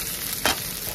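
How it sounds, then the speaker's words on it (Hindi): Onion fries in oil in a pan for chana masala, a close, even sizzle broken by one brief louder burst of stirring midway, with no voices. "इसमें प्याज को थोड़ा सा फ्राई कर लेते हैं"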